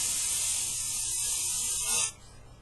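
An aerosol can sprays a steady, loud hiss for about two seconds, then cuts off abruptly into quiet.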